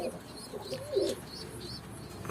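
Breeding male pigeons in a coop give a soft, low coo near the middle, faint and close against a quiet background with a few light chirps.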